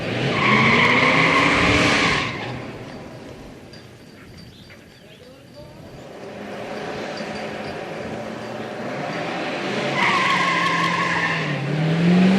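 A classic muscle car spins its tires to heat them, giving loud squealing screeches with engine roar, dying down to a lower rumble before the squeal rises again near the end; no talking.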